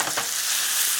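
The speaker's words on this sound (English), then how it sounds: "I got zucchini, chop it all up, onions, chop it all up, get it in the pan with some oil" Chopped zucchini and onions fry in hot oil in a pan, producing a bright, continuous sizzle with a few stirring scrapes near the start.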